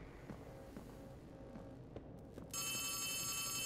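A telephone rings in the video game Poppy Playtime Chapter 3, a bright electronic trill that starts abruptly partway through and sustains loudly over quiet background ambience with a few faint knocks before it.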